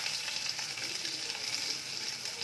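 Ginger and garlic with four garlic cloves and a pinch of salt fry in a pan, giving a steady close hiss and sizzle with soft stirring scrapes; no talking.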